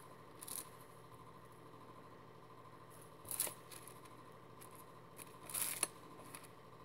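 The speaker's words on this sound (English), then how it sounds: "we're going to cut it a little smaller" Scissors snipping through a thin aluminum soda can for polymer clay leaf bead crafting, three short separate crisp cuts spaced a few seconds apart over a quiet background.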